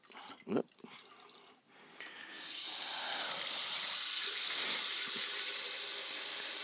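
Tap water runs steadily into a container for making coffee, starting after a few brief clatters and knocks and then holding as a loud, even hiss close by with no talking.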